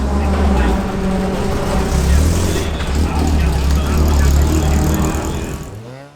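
Race-prepared VW Beetle Fun Cup car warming up and pulling away toward the grid, a steady loud low engine drone throughout with voices underneath, fading at the end.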